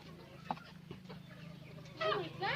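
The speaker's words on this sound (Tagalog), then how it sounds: "Look at that. That's a chicken, guys." Chickens clucking in a backyard farm's breeding area, close and moderately loud, with short clucks and a rising flurry of calls near the end over a steady low hum and faint talk.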